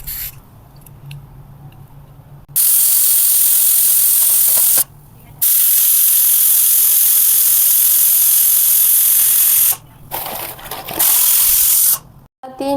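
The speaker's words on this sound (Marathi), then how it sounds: "झाकण लावून मध्यम आचेवर 3 शिट्या आपल्याला काढून घ्यायच्या आहेत" A pressure cooker of rasam rice on medium heat lets out loud, sustained steam whistles, two long bursts and a shorter third, each a piercing hiss, with quieter kitchen hiss between them.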